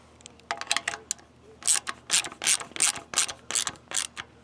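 Bolts on a Kohler Command engine fuel pump being tightened with a ratchet: a near series of sharp clicking bursts, first scattered and then in a steady run of about seven strokes.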